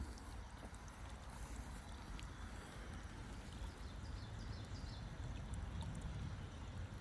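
Water trickling steadily into a tadpole tank, a soft continuous splashing and bubbling wash that stays even throughout, fairly quiet and with no voices.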